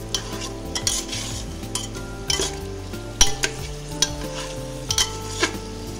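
Drumstick and potato curry, cooked without water in plenty of oil in a pressure cooker, is stirred steadily for six seconds. A spoon scrapes and clinks against the pot again and again over a constant close sizzle of frying.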